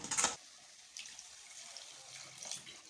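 Water poured into a pan of cooking mutton masala gravy, a short splashing gush at the start that settles into a faint trickle and quiet sizzle, with no talk.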